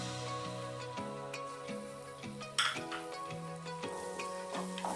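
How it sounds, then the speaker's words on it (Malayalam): Carrot halwa with cashews, raisins and almonds is stirred in a pan with a metal spoon, a soft sizzle under repeated scraping and clinking against the pan, close and fairly quiet. "നന്നായിട്ട് ഇളക്കി യോജിപ്പിക്കാം."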